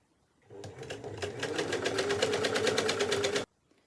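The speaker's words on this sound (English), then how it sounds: "being nice and springy makes it more difficult to feed through the sewing machine" A sewing machine runs a fast, even stitching rhythm for about three seconds as it sews rows of shirring elastic into a dress made from a quilt cover, starting and stopping abruptly, close and alone.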